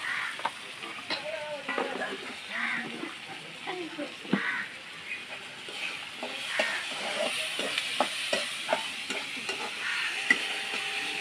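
Onion frying in a pan in a village kitchen, a soft continuous sizzle with frequent scraping and stirring clicks, fairly faint and close, with a voice talking over it at times.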